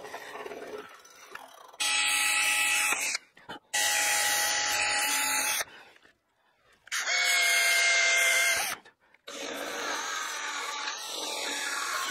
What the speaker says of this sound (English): I'm going to drill part way through and then open them up from the other side.